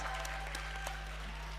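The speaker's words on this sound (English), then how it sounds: "One final round of applause." Audience applause at a conference closing fireside chat, a steady wash of clapping heard alone at moderate level through the whole stretch, with a low electrical hum underneath.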